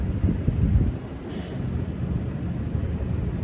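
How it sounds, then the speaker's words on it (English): Gusty wind on a Manhattan street at night buffets the microphone with low rumbling blasts, steady and close, with no one speaking. "And it's windy too."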